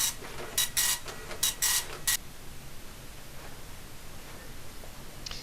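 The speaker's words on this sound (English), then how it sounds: "The printer will keep printing." A dot matrix printer prints in a few short buzzing bursts, close and moderately loud, then falls silent into low background hiss.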